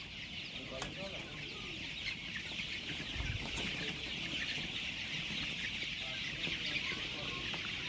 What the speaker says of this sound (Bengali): বিভিন্ন কালারের সোনালী মুরগি।